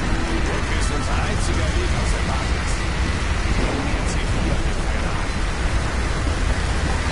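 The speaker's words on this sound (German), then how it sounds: "Es regnet und stürmt." Dense, steady rush of heavy rain and wind in Call of Duty: Modern Warfare 3, a continuous loud storm texture with faint voices mixed underneath.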